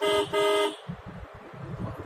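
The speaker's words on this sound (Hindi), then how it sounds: "हॉर्न मार मार के साइड में करना पड़ता है।" A car horn gives two loud toots in quick succession while driving on a road in Punjab, followed by the rumble of the moving vehicle.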